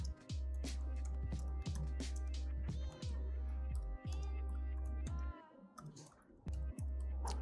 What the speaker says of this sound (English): Read the blog and now let's start typing the code.